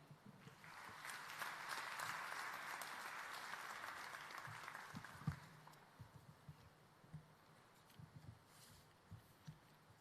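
Hearty audience applause at a graduation ceremony, a steady wash of clapping for several seconds that fades out, leaving scattered thumps and light footstep-like knocks.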